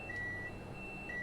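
A train cab alarm in a Class 390 Pendolino in Train Sim World, a faint steady electronic tone with short beeps sounding alone.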